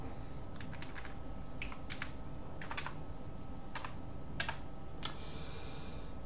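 Sparse keystrokes on a QWERTY computer keyboard, about a dozen clicks in irregular small clusters over a steady background hum, close but fairly quiet, with no speech.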